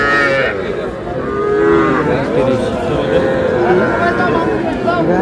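Cattle mooing at a farm selling young bull calves, several drawn-out moos rising and falling close by amid steady crowd chatter and voices talking throughout.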